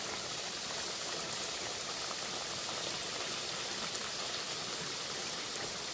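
Mango luchi deep-frying in hot oil give off a dense, steady hiss of bubbling that stays even and close throughout, with no voices.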